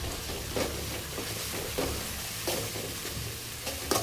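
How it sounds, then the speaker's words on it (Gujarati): Noodles in tomato sauce are stirred in a pan, giving a steady close sizzle broken by several scraping, shuffling strokes roughly every second, with no talk. "અને થોડોક ટમેટા સોસ નાખવાનો। પછી એને સારી રીતે હલાવવાનું।"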